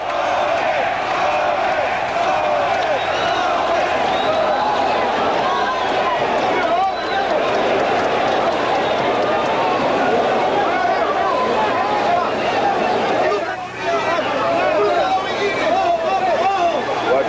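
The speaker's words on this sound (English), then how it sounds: "the chant of Gomez from this crowd here in San Juan" Boxing crowd in San Juan at the Wilfredo Gomez vs Juan Laporte fight chanting Gomez, a steady roaring arena din of massed voices sustained throughout, with a commentator talking over it.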